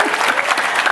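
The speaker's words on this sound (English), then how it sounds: "I thought that would be an applause line" Brief burst of audience applause at a public conversation event with Speaker Emerita Nancy Pelosi: dense, steady clapping from a crowd lasting about a second.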